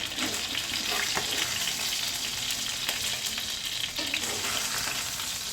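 Broiler chicken pieces fry in a pan with a steady, dense sizzle and crackle that continues throughout, with occasional stirring scrapes.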